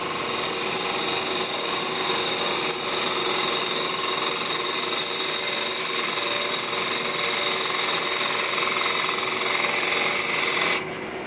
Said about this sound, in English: pick this cut up again and carry it through the top just by rubbing bevel